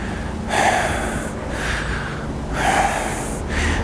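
Deep, forceful breaths during a chair-pose exercise in a bootcamp workout, with long loud inhales and exhales alternating in a slow rhythm, close and prominent.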